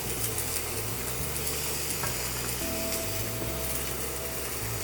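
Cream is stirred into a pan of food for a grilled chicken and couscous dish, giving a soft, steady sizzle and scraping under a constant low hum.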